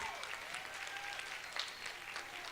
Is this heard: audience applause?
yes